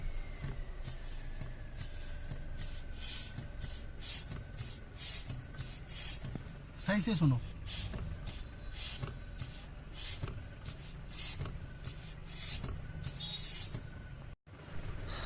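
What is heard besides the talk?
air leaking from faulty car brake booster when braking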